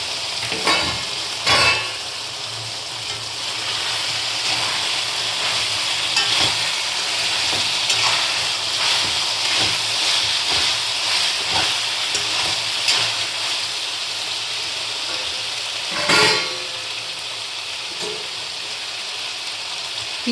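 Chicken curry cooking in a pan, a steady loud sizzle broken by repeated scraping stirs and a few clanks of the spoon against the pan.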